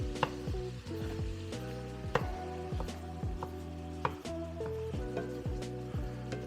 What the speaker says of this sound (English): now I'm going to continue to chop my meat up.